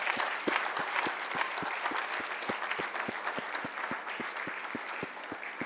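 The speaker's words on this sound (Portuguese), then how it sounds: "Let's clap to the Lord" Church congregation applauding during a Sunday service, a broad sustained wash of clapping with a steady, evenly spaced low beat running underneath, moderately distant.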